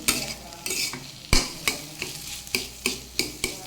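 Taro greens and chickpeas stirred and fried in a pan, with a steady sizzle broken by about nine sharp, evenly spaced scraping strokes of a spoon, close and fairly loud.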